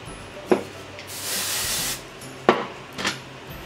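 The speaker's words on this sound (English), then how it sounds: "Sometimes I just like to spray it and then just run my fingers through it" Dry texture hair spray hisses onto short hair in one sustained close burst lasting under a second, bracketed by a few sharp clicks and taps of the can.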